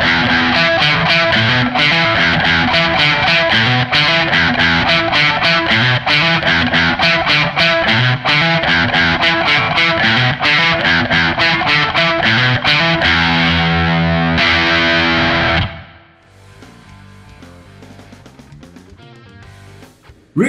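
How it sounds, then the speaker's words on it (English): A distorted electric guitar plays a riff of short, clipped notes in a steady, driving rhythm. It rings loudly for about fifteen seconds before dropping to quieter, sparse notes. "If you make the notes shorter, the riff will sound a bit different."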